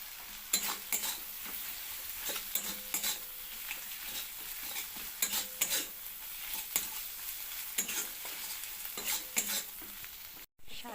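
Shrimp frying in a pan for a Bengali dish of shrimp with taro stolons, giving a steady sizzle broken by repeated scrapes and stirring clinks, close and with no voices.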